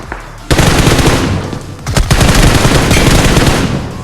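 Automatic gunfire in PUBG Mobile comes in loud, rapid bursts, one short burst followed by a longer sustained volley, with dense cracking shots close by.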